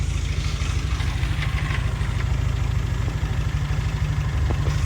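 A 1988 Austin Mini engine with a new carburettor setup idles steadily and close, a continuous low, even rumble with no talk over it.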